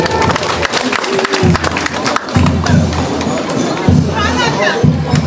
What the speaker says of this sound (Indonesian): Mari kita berikan tepuk tangan yang paling meriah untuk peserta pada di saat ini.